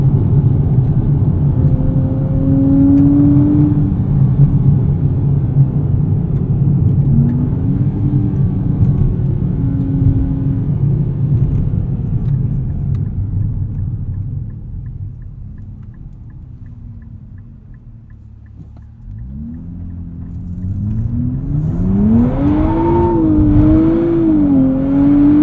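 A 2023 Nissan Z with a 9-speed automatic accelerates hard in second gear, its loud engine drone sustained and close, easing off briefly before the revs climb again in a steadily rising pitch.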